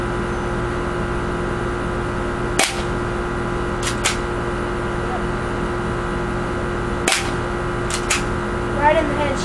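Airsoft gun firing at a small close-range target during practice: two sharp snapping shots about four and a half seconds apart, each followed by a couple of fainter ticks, over a steady background hiss.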